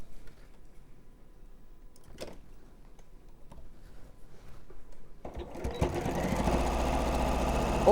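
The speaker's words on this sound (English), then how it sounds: "Now sew them together." A sewing machine joins pieced quilt-block fabric with nested seams, starting after some quiet handling noises and then running steadily and close up until the end.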